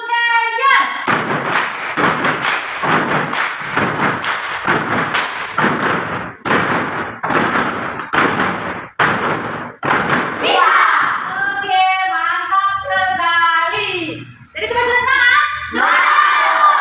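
A school class doing the 'tepuk champion' clapping chant: loud, rhythmic bursts of group clapping, then excited children's voices chanting and shouting together in a classroom.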